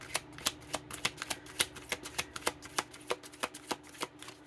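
Cards are shuffled close by in a quick series of sharp riffling flicks, repeating rapidly with no talking.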